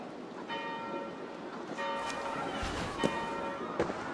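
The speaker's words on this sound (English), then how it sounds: "Do you not hear the bells?" Church bells ring out in the Assassin's Creed Valhalla game world, repeated tolls with a lingering resonant hum over a quiet ambient bed, joined near the end by a couple of sharp knocks.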